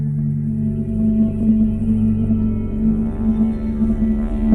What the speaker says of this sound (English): The harp's on the left, didgeridoo on the right.